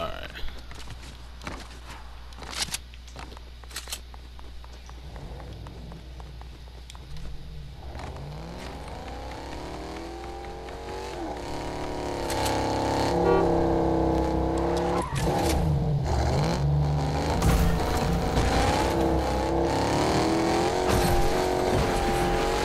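A car driven in the Fortnite video game, its engine rising and revving steadily with tire noise, loud through the second half, while a person talks over it.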